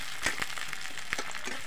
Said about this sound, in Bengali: পেঁয়াজগুলো হালকা একটু ভাজা ভাজা হোক